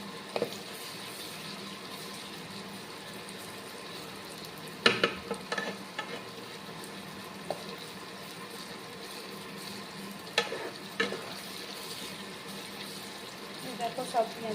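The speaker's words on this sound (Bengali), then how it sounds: "পেঁয়াজগুলোকে ভালোভাবে লাল লাল করে ভেজে কিছুটা বেরেস্তার জন্য তুলে রাখবো" Sliced onions frying in a pan for mutton biryani, being browned deep red, give a steady soft sizzle and crackle with occasional louder stirring scrapes.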